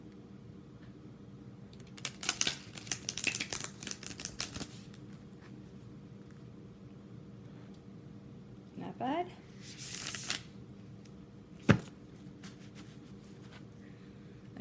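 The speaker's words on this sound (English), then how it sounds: "Let's see if I can shuffle this." Two bursts of rapid, papery card riffling, the second shorter, followed by a single sharp snap, with a brief spoken remark nearby.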